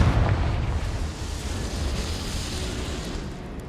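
A Confringo spell explosion in the Hogwarts Legacy video game, a heavy booming blast that hits at once and then fades into a long rumbling roar, loud and close.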